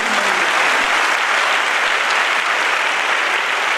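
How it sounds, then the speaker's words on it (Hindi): A crowd applauds steadily and loudly, a dense wash of clapping that holds for a few seconds without pause. "तो एक बार जोरदार ताली उनकी सभी।"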